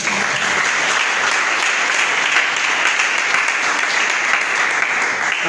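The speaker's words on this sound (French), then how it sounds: "Est-ce qu'on peut l'acclamer pour cette fois?" A church congregation applauds during a Sunday service, a steady, dense wash of clapping from many hands that holds evenly from start to finish with no talk over it.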